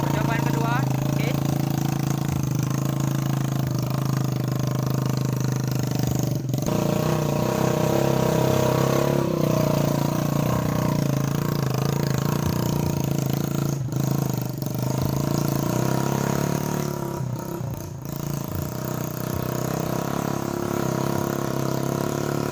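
A homemade off-road machine for hauling palm oil fruit runs its engine steadily and loudly, with a sustained drone and a slight drop in pitch near the end, and voices are heard over it.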